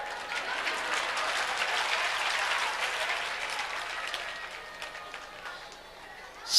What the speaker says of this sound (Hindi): तो तुम ताली बजा रहे हो